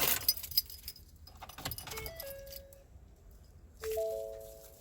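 Keys jangle with bright metallic clinks as they are picked up in a 2019 Ford F-150 during a tow upgrade, a few rattling bursts close by, then a faint chime near the end.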